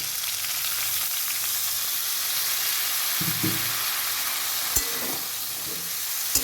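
Cumin powder and spices sizzle hard in a pan just after a splash of water goes in, a close, continuous hissing fry with a few scraping stirs of a spoon.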